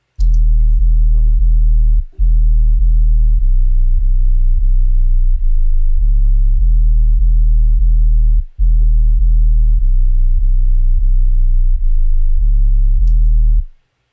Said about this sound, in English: So here's the 808 pattern.